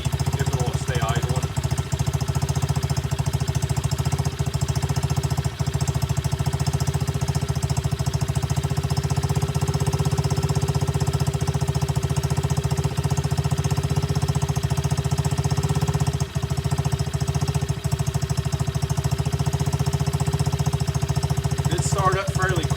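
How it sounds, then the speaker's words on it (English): An X-pro Bolt 110cc pit bike engine idles steadily and nearby for the whole stretch, a continuous low putter with faint mechanical ticking and no throttle changes, carrying on alone without talk. "Let it run for a little bit and we'll see if it will stay idling."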